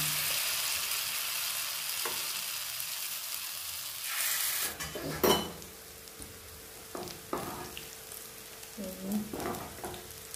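Pakoras sizzle in hot oil in a home kitchen, a steady frying hiss with clinks and scraping stirs of a utensil as the fritters are turned over; no one speaks.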